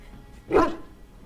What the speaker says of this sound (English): He bounces around you, barking excitedly.